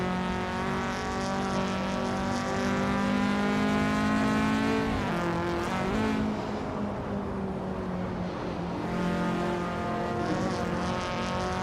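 Engines of a Peugeot 205 GTi and a VW Mk2 Golf GTi racing through the streets of Paris in Assetto Corsa, loud and close, holding a steady high drone, then shifting and climbing again as they accelerate.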